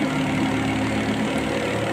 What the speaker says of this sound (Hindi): देखिए बिल्कुल लोड नहीं है ट्रैक्टर पर